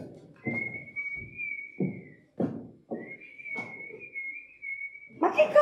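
A man whistles a tune in two long sustained phrases on a stage set, the clear tone held over intermittent footsteps and knocks, near and moderately loud.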